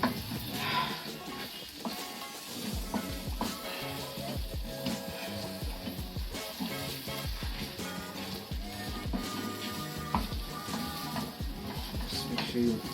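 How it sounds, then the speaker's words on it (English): Marinated fish is stirred with Blue Band margarine in a hot pan for a wet fry, giving a steady sizzle broken by frequent scraping and clinking of the utensil against the pan, close and continuous. "Now I'm going to try and mix it to make sure that the blue band goes at every single corner that it's required to go in."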